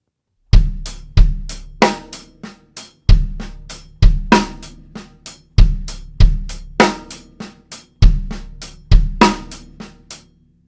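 A linear drum pattern moves among bass drum, hi-hat and snare with no two voices struck together, accented snare hits standing out. The short phrase repeats in a steady cycle, loud and close, with no talk.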